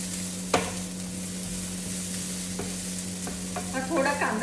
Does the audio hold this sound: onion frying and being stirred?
yes